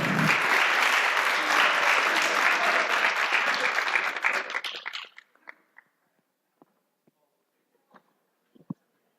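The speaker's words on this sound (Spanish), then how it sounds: "Un aplauso para él." Conference audience at a game development talk applauds a speaker, a dense burst of clapping that stays full for about five seconds, then fades quickly to a few isolated claps and near silence.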